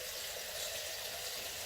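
Cool water pours steadily into a Nigerian moi moi mix for a few seconds, a soft, faint trickle and splash with no talking.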